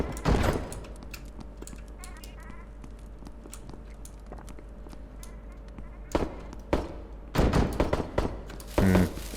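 Gunfire in a Backrooms-style horror video game: scattered sharp shots, mostly faint in a low ambient hum, then a louder cluster of bursts near the end, with some talking.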